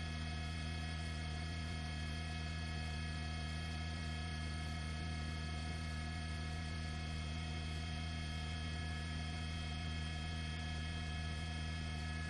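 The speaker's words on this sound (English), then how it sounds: "Little tiny helicopter." A small helicopter flies over a forest fire in the Cleveland National Forest in California, heard as a steady, distant droning hum that holds constant and even.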